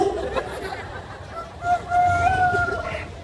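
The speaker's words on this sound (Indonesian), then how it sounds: "Berarti ada ayam." A rooster crows once at a distance, a drawn-out call rising over faint background chatter.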